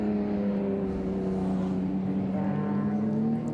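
Heritage Group A touring race cars, including a BMW, lap at Winton, a steady distant engine drone with a sustained pitch, faint and continuous with no voices over it.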